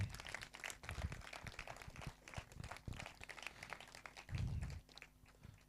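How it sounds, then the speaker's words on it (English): A room applauds at the close of the Pristine Badminton League Season 5 player auction in Yoginagar, Borivali: scattered, fairly faint clapping with uneven rhythm, and a brief louder thump partway through. "a big round of applause for everyone"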